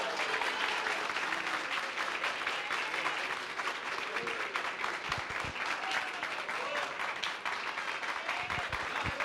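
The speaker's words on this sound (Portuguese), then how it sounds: "As palmas para o Senhor." A church congregation clapping for the Lord during worship, a dense continuous wash of applause from many people, with voices faintly heard beneath.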